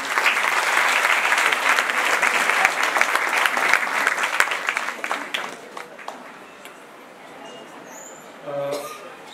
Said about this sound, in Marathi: टाळ्या वाजवा सगळ्यांनी.